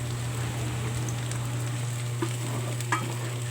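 Mung beans and pork cubes fry in a pan with a steady crackling sizzle, a low constant hum beneath and a couple of faint clicks from stirring; no voices.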